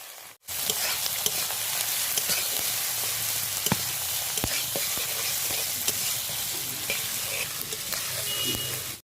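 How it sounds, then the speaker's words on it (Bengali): Sliced onions for pulao frying in hot oil after a bay-leaf tempering, with a steady close sizzle broken by repeated scraping and clattering of a spatula stirring the pan, no voices. "এবার এর মধ্যে দিয়ে দিচ্ছি পেঁয়াজ তিনটে পেঁয়াজকে কেটে নিয়ে দিয়ে দিলাম"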